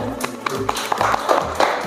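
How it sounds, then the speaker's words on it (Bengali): Clapping from a small audience at a children's reality show as kids receive gifts, scattered sharp hand claps with some crowd noise, fairly close. "জোরে একটা হাততালি হয়ে যায়।"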